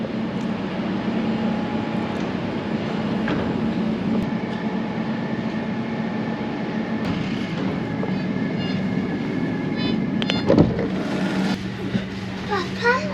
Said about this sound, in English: Aha, and here's our train.